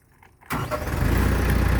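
A TYM T474 tractor's diesel engine cranks and catches abruptly, then settles into a loud, rough, steady clatter close by, with no talk.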